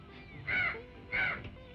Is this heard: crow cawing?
yes